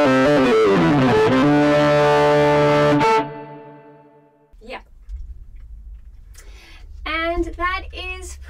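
A flute through a distortion pedal, made to sound like an electric guitar, plays a buzzy melody loudly for about three seconds and cuts off, followed by a quieter stretch and then some talking.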